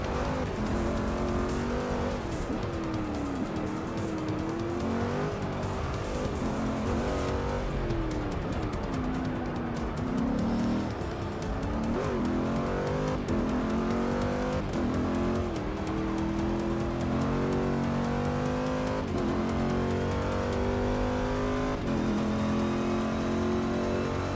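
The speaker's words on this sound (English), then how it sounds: "one of the things we're going to have to try and minimize is the tire squealing" Race car in Forza 6 at the Catalunya circuit during an endurance race, engine revving and shifting continuously with repeated tire squeals through corners, loud and sustained with no talk.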